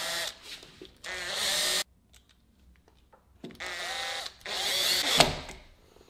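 A power drill drives long 3 to 4 inch screws into a door frame in several short whirring bursts, separated by quiet gaps, with the last burst ending in a louder bite as the screw seats.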